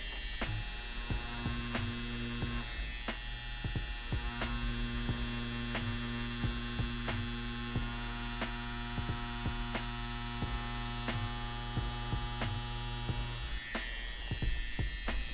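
An Axys Valhalla tattoo machine fitted with a small liner runs with a steady electric buzz and hum, a constant close drone with faint ticking that continues throughout, with no talking.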